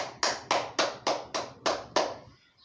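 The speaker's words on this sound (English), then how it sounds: "let's give ourselves a round of applause" A few students in a classroom clap in unison, seven sharp, evenly spaced claps close by, then silence.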